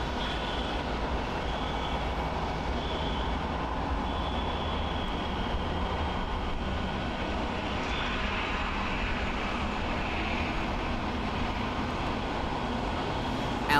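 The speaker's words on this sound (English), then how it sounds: "Coming in on runway 23 is Japan Airlines Flight 506" A Japan Airlines Airbus A350-900 landing on runway 23, a steady, fairly faint rumbling roar with a thin whine on top that stays even throughout, heard from some distance with no talking.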